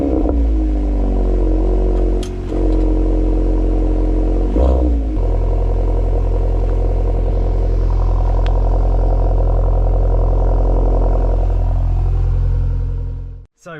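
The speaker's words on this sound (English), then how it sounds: "Let's start with a nice cold start with the Krapovich exhaust." An Audi S3 facelift with an Akrapovič exhaust starts cold and holds a loud, rumbling idle with a deep sporty exhaust burble, revving slightly before cutting off at the end.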